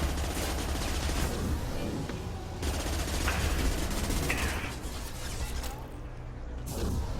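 Dense, continuous automatic gunfire from a hacked turret during a firefight with Geth in the video game Mass Effect 2, loud and sustained, with mechanical clanks and brief whooshes mixed in.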